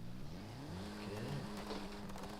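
A car engine revving up and down, pitch rising and falling in surges, heard fairly faintly and distant.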